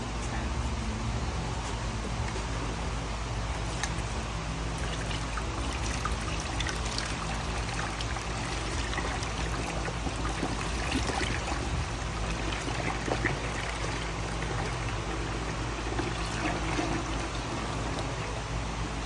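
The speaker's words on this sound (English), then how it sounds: "when we pour the product in, we want to keep this out first, because we want to pour in and then let all the bubbles come up" Soft serve mix poured into a Stoelting soft serve machine, a continuous steady rushing pour that holds at even loudness for almost twenty seconds with no talking.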